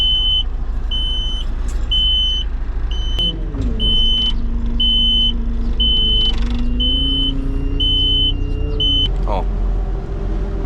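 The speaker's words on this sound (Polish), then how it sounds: "Czasem się i tak zdarza, że pika ten czujnik." A Zetor 7211 tractor's cab sensor sounds a steady series of short, evenly spaced electronic beeps over the loud, constant rumble of the idling engine, whose tone shifts partway through.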